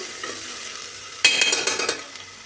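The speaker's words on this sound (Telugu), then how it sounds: "పసుపు వేసుకుందాము. బాగా కలుపుకుందాం. మంచి ఫ్రై అవ్వాలి." Turmeric and ginger garlic paste get stirred into mutton curry frying in a pan, a soft sizzle that jumps into a sharp, close scraping and clatter of the spoon halfway through.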